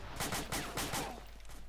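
Rapid automatic gunfire in the video game ArmA, a quick string of about six sharp close shots in a steady rhythm that tapers off with fainter pops.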